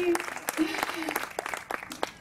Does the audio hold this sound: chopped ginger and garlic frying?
no